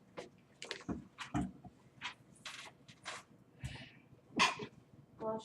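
A single sharp sneeze bursts out among scattered faint voices and shuffling in a quiet room.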